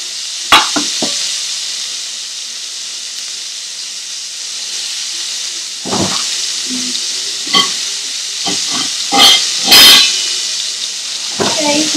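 Large prawns frying in very hot oil for vindaloo, a loud continuous sizzle and hiss with scattered clacks and scrapes as they are moved and turned in the pan.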